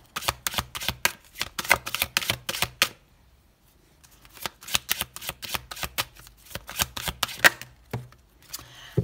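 Oracle cards are shuffled by hand, a close, crisp run of quick riffling flutters that pauses for about a second and then resumes at the same brisk pace, with no talking.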